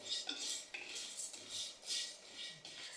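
Whole spices dry roasting in a pan, stirred with a utensil that makes soft rhythmic scraping and light rattling strokes, faint and close, with no voices.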